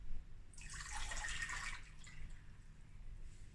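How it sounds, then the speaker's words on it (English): Lukewarm water poured into a mixing bowl for bread dough, a bright splashing gush rising after half a second and easing off within about two seconds over a low background hum. "we're going to put the 500 ml of lukewarm water into the bowl."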